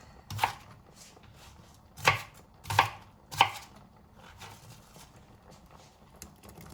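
A knife cuts tofu puffs for a curry on a board, giving several sharp, separate chops at uneven intervals, close by with no talk.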